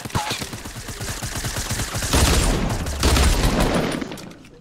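Rapid bursts of automatic gunfire from the Fortnite video game, loud and close, with a dense volley building in the second half before tapering off.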